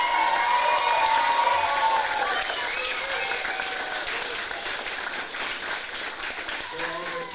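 A crowd at the Java Jive 2024 event gives sustained applause, steady dense clapping that holds for several seconds and slowly thins, with a few voices and cheers mixed in.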